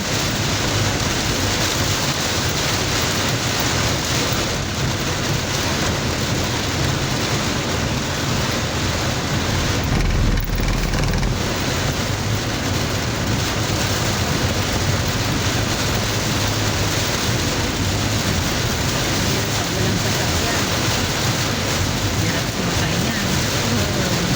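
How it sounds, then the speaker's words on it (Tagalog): Heavy rain pours steadily during a typhoon, making a dense, loud, unbroken wash of noise that lasts the whole time and may be mixed with wind and road noise. "lakas ng ulan mga kabiyahero."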